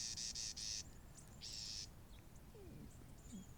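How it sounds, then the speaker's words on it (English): A small flock of tiny birds on a hiking trail in Mission Gorge, San Diego, gives short bursts of high, thin chirping, two or three quick clusters close together, over faint outdoor ambience. "Just a whole bunch of little cheep cheeps."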